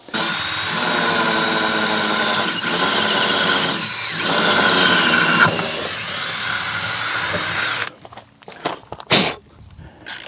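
A cordless drill whines steadily as it bores holes for Tapcon screws into hard material, running in long continuous bursts with brief pauses, then stops and is followed by handling clatter.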